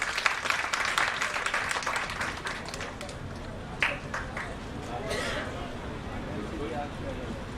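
An audience at a foundation-day ceremony in India claps in a brisk burst that thins out after a few seconds, leaving scattered taps and murmuring voices with a few isolated sharp claps.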